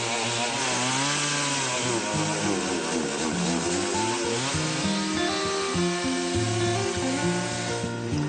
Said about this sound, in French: il me semble avoir entendu une tronçonneuse fonctionner